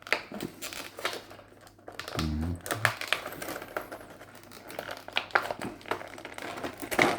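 Bravestarr action figure packaging being opened up close, with crinkling plastic, taps and scraping handling noises in irregular bursts, fairly quiet throughout.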